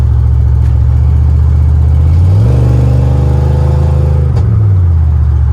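A modified 1996 GMC K1500 Sierra 4x4 pickup's engine revs up in a steady, loud rise, heard close from inside the cab as the transmission kicks down, with the drone climbing and then settling.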